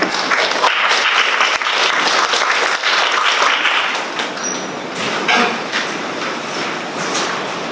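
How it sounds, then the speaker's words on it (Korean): A seated audience gives sustained, dense applause welcoming a presenter at a healthcare-system results briefing, the clapping steady and loud throughout before easing slightly toward the end. "큰 박수로 맞이해 주시기 바랍니다"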